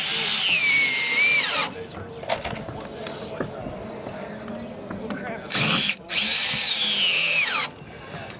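A power drill drives screws into 2x4 framing for a raft in two loud, whining bursts with rising and falling pitch, separated by quieter handling clatter, close up.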